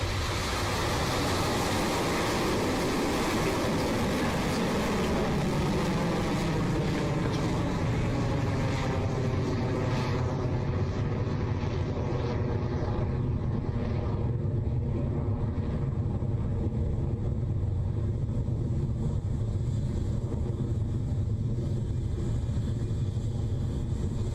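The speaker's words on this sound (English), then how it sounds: "And we have liftoff." Rocket Lab Electron rocket lifting off from Launch Complex 1, a continuous loud broadband roar and rumble that holds steady throughout, with the high end thinning slightly partway through as the rocket climbs away.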